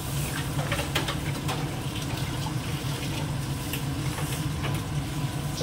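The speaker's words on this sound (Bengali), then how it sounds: "জলটা দিয়ে দিই।" Water pours into a pan of potato and pointed gourd curry with a continuous loud gush and splash lasting several seconds, unbroken and alone.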